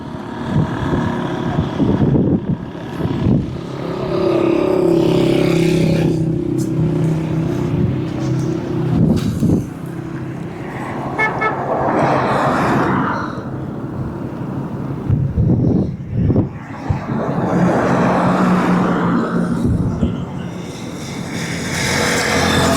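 Motorcycles and auto rickshaws drive along the Malir Expressway in Karachi, loud engine drones and revving passes rising and fading one after another close to the microphone, with wind noise.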